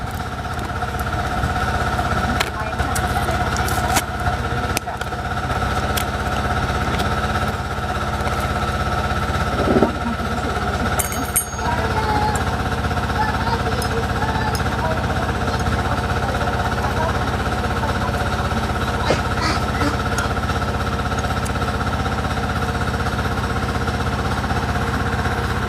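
Motorcycle engine idling at about 1,000 RPM, a steady low mechanical drone with faint rhythmic knocking, close and continuous, with a few clicks and knocks from work on the clutch.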